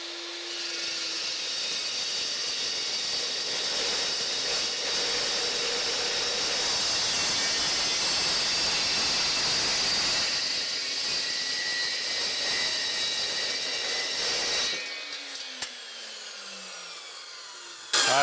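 Power saw cutting steel pieces for heavy duty saw horses, a loud continuous grinding whine that runs for about fifteen seconds, then drops away to quieter shop noise with a brief final clatter.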